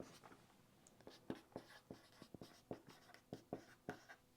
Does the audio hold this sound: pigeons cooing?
no